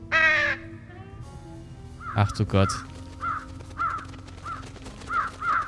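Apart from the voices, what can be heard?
crows cawing in the video game Trüberbrook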